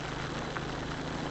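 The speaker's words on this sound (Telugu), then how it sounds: "ఇప్పుడు హెవీగా బాగా కొట్టింది వర్షం" Heavy rain pours steadily on a roadside stop during a motorcycle trip, a dense, even hiss without pauses, quiet and constant with no voices.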